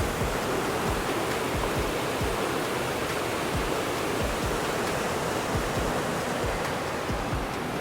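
A waterfall pours down in a steady, dense roar of broadband rushing water, loud and continuous throughout with no voices.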